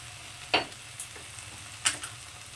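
Ground spices fry in hot oil in a pan with a steady low sizzle, broken by two or three scraping stirs of a spoon; no voices.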